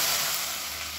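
Hot oil tempering of mustard seeds, urad dal, cumin, fenugreek, asafoetida and curry leaves sizzles as it is poured into sambar, a steady close hiss that slowly eases.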